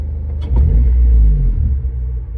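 Engine of a 2007 Honda Civic Si with a valve rattle, a steady close low rumble with a brief rise around the middle of the idle, running alone without voices.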